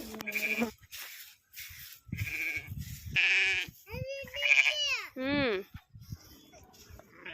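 Sheep bleat repeatedly in short, wavering cries, some close and loud, with brief gaps of quiet between calls.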